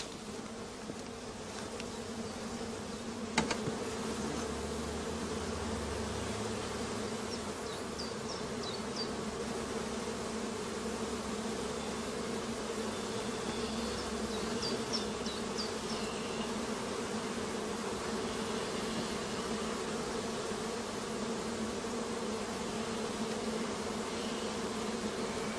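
A honey bee colony at an apiary hums with a dense, steady buzz that continues unbroken at a moderate level, with no voices.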